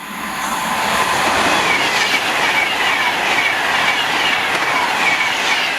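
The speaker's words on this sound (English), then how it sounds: "First train today, we've got Pendolino." A Pendolino passenger train passes at speed through Tamworth station, giving a loud, steady roar of wheels and rushing air with a faint clickety-clack that holds throughout, close and without speech.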